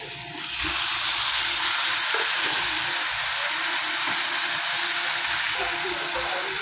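Tomatoes dropped into hot oil in a frying pan while cooking Bengali dahi potol, with a steady loud sizzle that starts abruptly and continues throughout.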